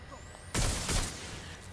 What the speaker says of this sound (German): Wo kommt der Schuss? Schuss?